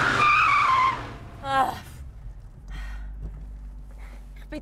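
Car braking hard and skidding during bodyguard evasive-driving training, a loud tire squeal at the start that fades out, followed by low engine rumble and faint voices.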